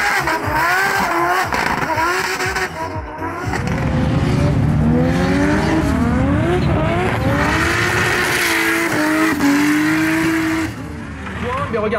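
Race cars roar past during a motor racing practice session, engines revving and shifting in sweeping pitch glides, loud and continuous with a commentator talking over them.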